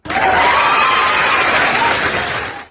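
A woman applauds herself during a live stream, a dense, continuous burst of clapping that holds steady for a couple of seconds and then cuts off.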